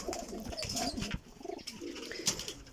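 Domestic pigeons coo softly in a loft among fancy breeding pairs, with overlapping low rolling calls and light rustling, close by.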